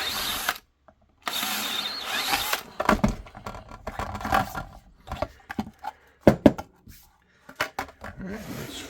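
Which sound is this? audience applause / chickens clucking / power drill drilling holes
power drill drilling holes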